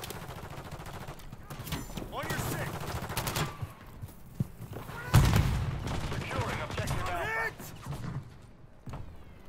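Rapid bursts of automatic gunfire and scattered single shots crack out in online Call of Duty: Modern Warfare 3 multiplayer, some loud and close, others farther off, while a player talks over the action.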